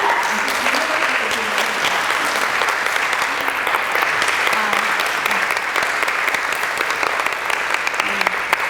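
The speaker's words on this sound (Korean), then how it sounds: "네, 그러면은 큰 박수로 모시겠습니다." Lecture-hall audience giving loud, sustained applause to welcome an author speaker at a Korean book talk, a dense continuous roar of clapping filling the whole stretch.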